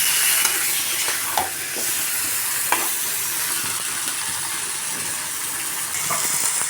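Chicken giblets being stirred with mung dal in a pan, a constant hissing sizzle with occasional faint scraping strokes, moderately loud and steady.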